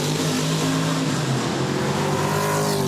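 An American muscle car racing in Touring Car Masters at Surfers Paradise, its engine a loud sustained roar with rising pitch lines as it accelerates past close by.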